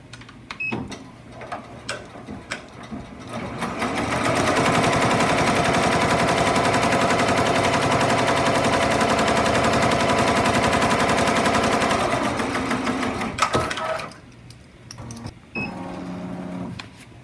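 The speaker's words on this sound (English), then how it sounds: "So the first thing that's going to stitch is the placement" A Ricoma MT-1501 embroidery machine stitches the placement outline for an appliqué pocket on a shirt, a steady, rapid mechanical chatter that runs close and loud for about ten seconds before stopping. Lighter clicks come before and after, with no talking.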